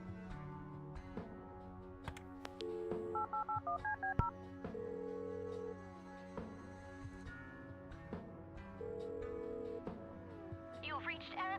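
A telephone in the point-and-click video game Kathy Rain is dialed with a run of short keypad tones in a quick rhythm, followed later by a longer tone, all set against soft game music and sound effects.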